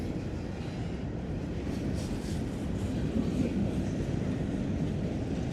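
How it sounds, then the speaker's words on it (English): A long freight train of almost 800 axles rolls steadily past during a roll-by inspection in Crofton, Kentucky, giving a continuous loud rumble and wheel noise with faint clatter that does not let up. "Currently doing a roll-by inspection on this train."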